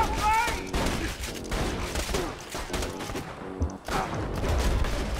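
Gunfight in the video game Borderlands 2, with rapid bursts of shots and impacts layered over busy game sounds and music, dense and continuous across the short stretch.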